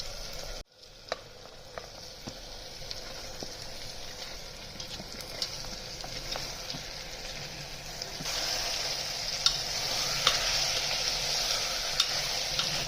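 Tomatoes with onion sauté in a pan for pav bhaji. A soft, steady sizzle is broken by intermittent spatula taps and stirring, and grows brighter and louder in the latter part, with no speech.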